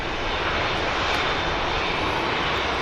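An EasyJet jet airliner starts to taxi at Manchester Airport, giving a steady, even engine hiss and roar at moderate distance, unbroken and without talk.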